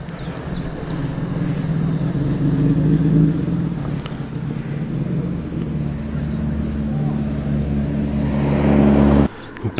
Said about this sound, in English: Burbling its way is a magnificent 3-litre V8 Triumph Stag